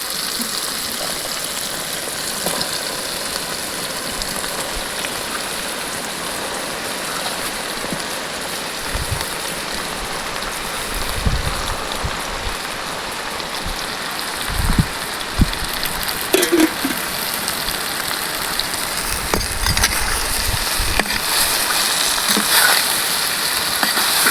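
Mushrooms sauté with softened tomatoes in a pan for a village-style mushroom gravy. A steady, dense sizzle continues throughout, broken by occasional utensil clinks and stirring.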